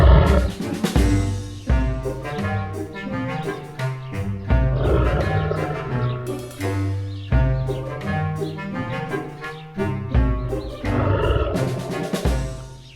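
A lion roars repeatedly in a jungle scene from a Panchatantra children's story, the deep loud roars coming in rhythmic bursts over about thirteen seconds with no talking.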